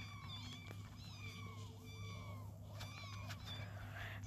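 Cats meow repeatedly in the video game PickCrafter, short rising and falling mews layered over a steady game hum and background music, quiet and continuous.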